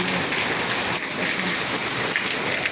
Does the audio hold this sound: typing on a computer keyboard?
no